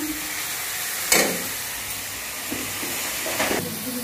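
Chopped onions frying in oil in a kadhai for matar paneer, a steady close hiss of sizzling with two brief louder bursts as the pan is disturbed.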